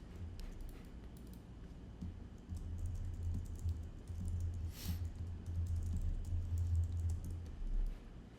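Soft, steady clicking of a computer keyboard being typed on, faint and continuous over a low hum, with no talk.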